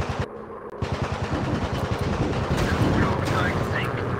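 Rapid machine gun fire from a WW1 fighter plane in a VR flight combat game, loud, dense bursts of repeated shots over a steady engine drone, with a voice talking over it.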